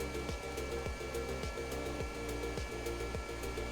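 A turboshaft engine in Kerbal Space Program runs down steadily, a continuous whirring drone with a repeating rhythmic thump every half second, loud and alone without speech.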